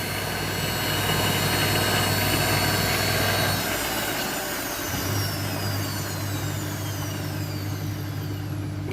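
A Candy washing machine with poor suspension runs with a loud, steady motor drone and a rising whine that dips briefly midway, then settles back into a constant hum.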